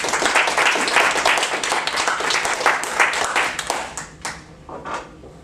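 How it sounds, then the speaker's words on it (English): Audience applause at a presentation as a speaker is welcomed, dense clapping that thins out toward the end into a few scattered claps. "Would you please give Barb a warm round of applause"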